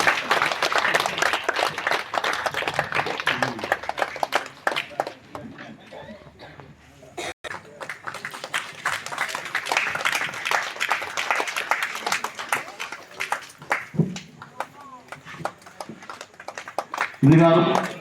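An audience claps at a village temple festival (kodai vizha) in Alwarkurichi, the sharp uneven hand claps rising and thinning in bursts across the stretch, with someone talking over them at times.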